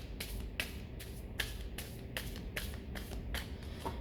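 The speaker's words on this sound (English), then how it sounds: "And one more shuffle to clean the cards." A deck of playing cards being shuffled: a run of crisp riffling bursts repeating at a steady rhythm, close and clear over a soft constant background hiss, with no voices.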